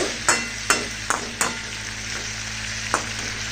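Cauliflower stalk vegetable frying in a pan under a steady low sizzle, with about five sharp spatula clacks against the pan as it is turned, close and clear, and no talking.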